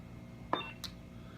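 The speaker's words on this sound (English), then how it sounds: "you can actually press and hold, and there's going to be 2 beeps." A Graflex 2.0 lightsaber hilt button gives a short electronic beep signaling mute mode, a brief chirp followed by a second fainter tone, alone in a quiet room.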